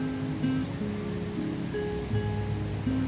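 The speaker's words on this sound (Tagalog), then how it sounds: "wala nang ulan pero napakahangin" Strong, steady wind roars outdoors in Cebu during tropical depression Basyang after the rain has stopped, a broad continuous rush with faint hums in the background.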